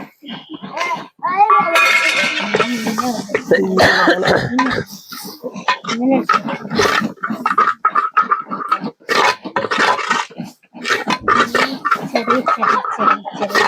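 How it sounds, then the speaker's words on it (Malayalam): Chickens cluck close by in repeated bursts, mixed with coughing and voices in the background. "കിച്ചു കോഴികളെ ആട്ടണ്ടടാ"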